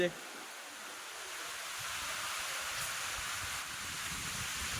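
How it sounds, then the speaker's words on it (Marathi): A sudden heavy rainstorm with strong wind thrashes trees outdoors, producing a dense, even hiss that fills the whole clip at moderate volume. "अचानक पाऊस चालू झाला आहे आणि वादळ."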